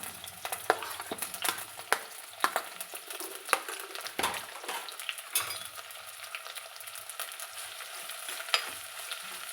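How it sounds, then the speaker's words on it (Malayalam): Green chillies added to an onion-and-mustard-seed base sizzling in a pan for egg kurma curry, a continuous near hiss broken by repeated metal stirring clinks and scrapes, with no talking. "പച്ചമുളക് ഇട്ട് കൊടുക്കാം."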